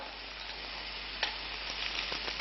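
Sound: stink beans (sataw) stir-frying in a pan

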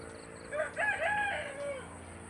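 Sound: rooster crowing

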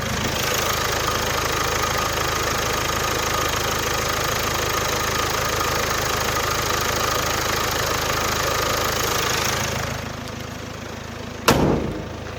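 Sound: diesel SUV engine idling

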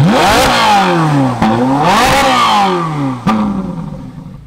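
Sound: Ferrari 458 engine revving, exhaust valves open

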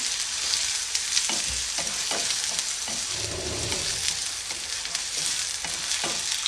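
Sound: onions frying in a pan

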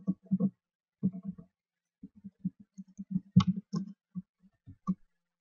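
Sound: typing a folder name on a computer keyboard

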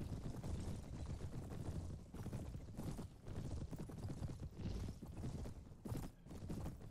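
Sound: cataphract horses of plate-armored Royal Guard, Mount & Blade video game

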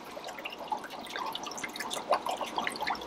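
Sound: pouring liquid bacteria supplement into a fish tank

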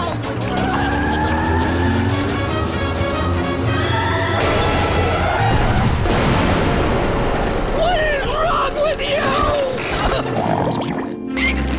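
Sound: cartoon explosion at bomb testing site

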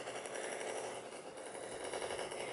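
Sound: gunfire in a shooter video game on an iPad

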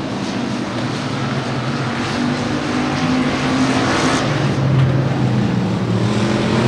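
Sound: factory stock race cars racing at Kennedale Speedway Park

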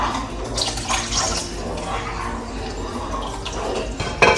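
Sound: water being poured into a cooking pan

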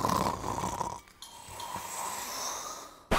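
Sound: person imitating snoring

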